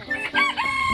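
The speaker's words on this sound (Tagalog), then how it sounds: "Manok na pula." A chicken makes a brief, close crowing call, short and bright against quiet background.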